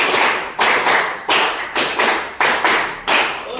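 A group claps hands in a steady patterned rhythm as an ice-breaking exercise, about ten sharp, loud claps in quick succession, each with a short room echo and no talking.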